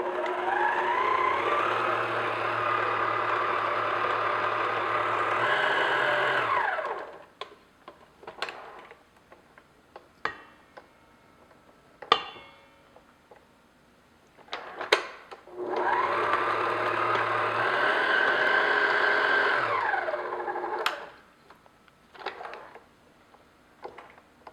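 Electric mixer whirring steadily while beating butter until creamy for classic lemon bars, two long loud runs of motor drone separated by a stretch of quiet clicks and knocks.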